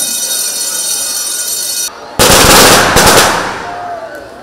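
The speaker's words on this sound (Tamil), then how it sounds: "வெடி வைக்கும்போது" A loud string of Diwali firecrackers bursts in rapid crackling pops after a high electronic tone cuts off, the bangs fading into a hiss.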